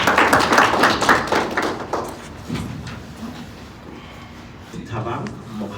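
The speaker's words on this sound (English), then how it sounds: "Can you please give him a round of applause?" An audience claps in a college presentation, a burst of applause that fades over a few seconds while people talk.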